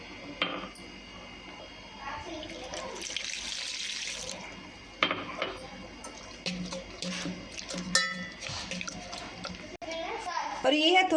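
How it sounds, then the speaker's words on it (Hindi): Water runs and splashes into a pan of besan curry for several seconds, with kitchen clatter and someone talking over it. "हम पानी डालेंगे।"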